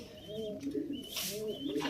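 Pigeons kept as pets coo softly in a low, rolling murmur, faint and close, with a brief hissy rustle partway through.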